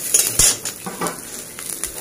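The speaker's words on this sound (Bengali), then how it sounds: "এই রসুনগুলো একটু নাড়াচাড়া করে নেব।" Garlic and young green chillies sizzle in a pan while a utensil stirs them, scraping and clinking against the metal in a few close, uneven strokes over the frying crackle.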